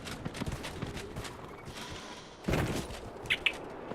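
Horse hooves clip-clopping at a gallop in the video game Dragon Age: Inquisition, a steady close rhythm of thuds with a louder burst midway and brief bright chimes near the end.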